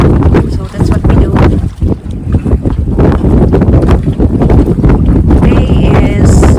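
Strong wind buffets the microphone beside a lake at Huron, South Dakota on a sunny day, a loud continuous rumble with gusts and a thin whistle near the end.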